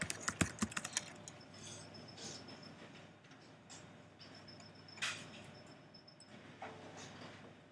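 Computer keyboard typing, with a quick burst of close clicks at the start followed by sparser scattered keystrokes over a quiet room background, no talk.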